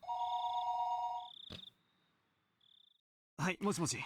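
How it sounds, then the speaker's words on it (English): An electronic telephone ring inside the visual novel game Higurashi, a pair of trilling tones followed by a sharp click, a brief fainter beep, and then a voice starting to speak. "the phone began to ring again"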